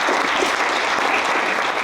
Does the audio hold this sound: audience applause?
yes